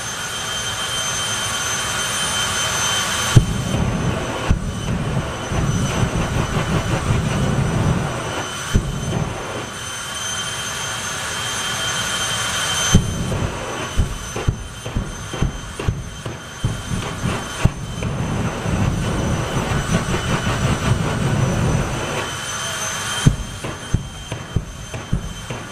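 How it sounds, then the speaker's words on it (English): A jet dragster's turbine winds up at the STP Summer Nationals 2021 drag race, a loud, close, sustained roaring whine that briefly drops away a few times before surging back. "So, winding up turbine."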